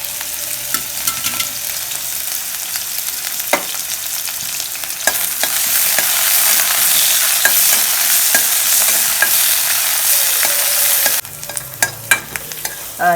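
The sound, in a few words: sautéing pirandai (adamant creeper) in sesame oil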